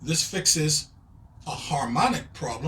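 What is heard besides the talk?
None of the usual background noises is heard.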